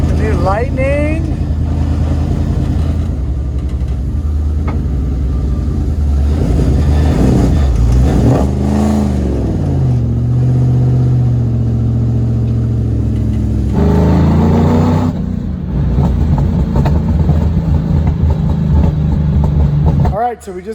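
A Ford F-150 Lightning electric pickup drives on Charlotte Motor Speedway, a loud steady road and wind roar with rising and falling whine as it speeds up and slows, while people talk inside throughout.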